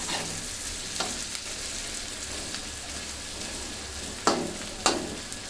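Chillies frying in oil for Bihari chicken: a continuous, close crackle and sizzle, with two louder spoon knocks or scrapes near the end and no voices.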